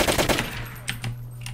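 Rapid automatic gunfire in the Roblox D-Day game, a quick burst of close shots followed by a few sparser cracks and distant pops over a low hum.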